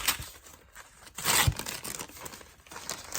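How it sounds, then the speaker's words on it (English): Flat paper packaging is peeled back from a potted houseplant during an unboxing, giving close crinkling and tearing rustles that swell in the middle, with one sharp crunch. "And just kind of peel the flat paper back."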